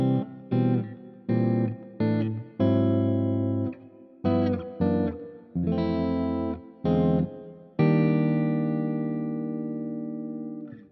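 Neo-soul reharmonized nursery rhyme played on electric guitar through distortion and chorus effects, a sequence of lush sustained chords struck one after another with short gaps, the last chord ringing out longest.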